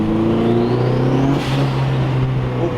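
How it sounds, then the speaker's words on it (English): Turbocharged Datsun 510 engine with its blow-off valve recirculating into the intake, a loud steady engine drone with a rising whistle that releases into a brief whooshing puff, then the motor carries on. "this is the blow-off valve recirculating back into the intake"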